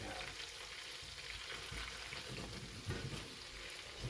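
A schnitzel fries in a pan with butter and rosemary, a close, constant sizzle with bubbling oil and occasional spoon scrapes from basting, fairly quiet overall.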